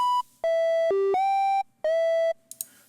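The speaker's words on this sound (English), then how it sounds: "just the triangle wave sounds like this" A Serum synth lead plays a triangle wave one octave up: clean, hollow sustained notes in a short stepping melody with brief gaps between them, dry and upfront with no voice.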